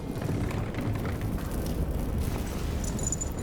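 A grenade explosion in the survival horror game Amnesia: The Bunker rolls out as a heavy, sustained low rumble with a dense boom that fills the moment, no speech over it.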